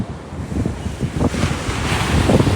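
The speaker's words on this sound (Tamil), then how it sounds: "பயங்கர காற்று." Strong wind buffets the microphone at a beach, with ocean surf rolling underneath in a steady, loud roar and gusty low rumbles across the whole stretch.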